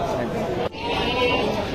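A goat bleating at a sacrificial livestock market, a short wavering cry amid busy crowd chatter, briefly cut off midway then resuming.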